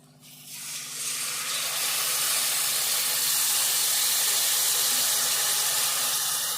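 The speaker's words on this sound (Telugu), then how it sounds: "ఇప్పుడు మనం చింతపండు సూపు పోసుకోవాలి" Tamarind juice is poured into a hot pan of old-style raw fish curry. The sizzle starts softly and quickly swells into a loud, steady hiss that holds to the end.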